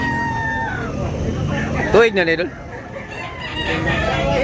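A rooster crows once, loud and near, over a steady murmur of voices and nearby talk at a busy rooster sale in Tabunok, Cebu.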